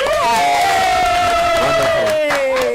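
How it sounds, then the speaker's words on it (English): A crowd at a live breakfast-show event roars with cheers and shouted whoops for a sponsoring bank, loud and close, a sustained wall of voices with one rising, drawn-out yell standing out. "a round of applause for Omni Basic Bank"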